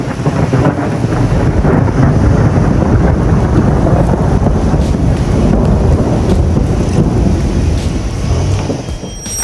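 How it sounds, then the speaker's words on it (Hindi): Heavy rain pours down during a drive on a steep mountain descent, making a dense, loud, unbroken roar of drops and wind. It carries on steadily throughout, with nobody talking. "बारिश भी बिल्कुल उस जगह पे आके तेज हुई"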